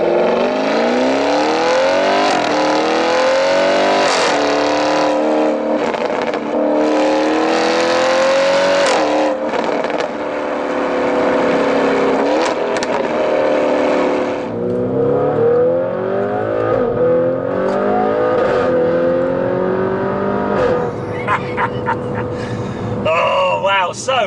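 An Audi RS6 tuned to 750 bhp revs and accelerates hard through the gears, loud rising and falling engine tones with shifts, heard up close from inside the car with occasional talk over it.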